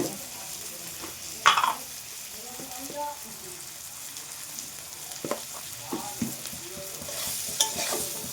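Drumstick flowers with salt and turmeric frying in oil while being stirred: a soft sizzle under intermittent scraping and clinking stir strokes, with a few sharper utensil knocks.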